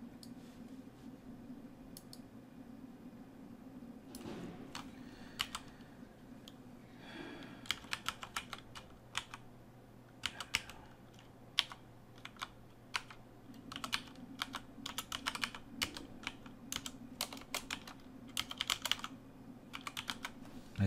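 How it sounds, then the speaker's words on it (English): Typing on a computer keyboard, irregular quick clusters of close key clicks with short pauses over a quiet steady hum. "I'll just type it."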